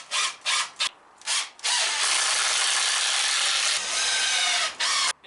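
Screws are power-driven through wooden end pieces into shorter boards to build a garage storage shelf frame, with several short ratcheting bursts followed by one long, loud drive, close up with no talking.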